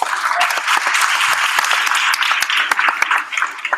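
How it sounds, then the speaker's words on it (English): An audience at a school night of student performances gives a round of applause, many sharp individual claps standing out over a lively crowd wash that thins toward the end. "So you can give them a round of applause."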